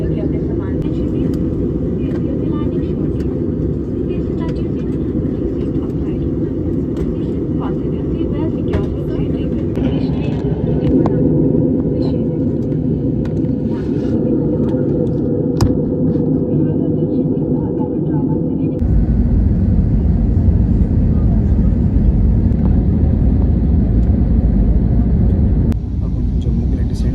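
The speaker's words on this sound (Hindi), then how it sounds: "कुछ ही देर में हम लैंड करने जा रहे हैं।" Inside an Air India airliner descending toward Jammu, a loud, steady low cabin roar drones throughout and deepens and swells partway through, with voices talking over it.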